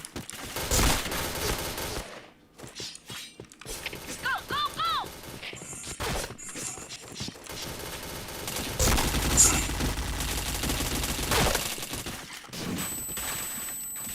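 Rapid bursts of gunfire from the online shooter game PointBlank ring out in clustered volleys across the clip, with crashing impacts and clattering mechanisms, while a voice speaks over parts of the action.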